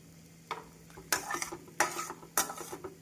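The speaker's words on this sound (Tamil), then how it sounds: "நாம் நன்றாக கிளறி விட வேண்டும்." Orange fruit kesari is stirred in a pan, several quiet scraping strokes of a spoon against metal coming in irregular bursts over a faint sizzle, close and alone without any talking.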